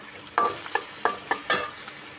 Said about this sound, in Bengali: এবার আমি এটাকে অল্প আঁচে আস্তে আস্তে ভেজে নেব